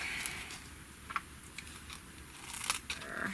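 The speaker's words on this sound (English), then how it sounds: "grab my little scissors to cut" A few quiet snips from small scissors cutting ribbon, brief crisp clicks spaced irregularly against a soft background hiss, close to the microphone.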